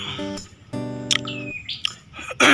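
A prinia in a tree among crystal guava and starfruit plantings gives a series of clear, close chirps and trills, some sustained and some short, with no talking.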